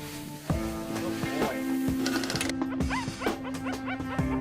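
A rescued dog, stuck in a pool of molten rubber, gives short yips and whimpers with a few sharp barks, close and moderately loud over a steady background hum.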